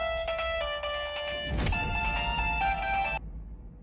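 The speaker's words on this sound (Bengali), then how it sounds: "ফোন তুলছে না রিং হচ্ছে" A loud electronic phone ringtone plays a repeating melodic tone for about three seconds, then cuts off, with a brief rustling burst partway through.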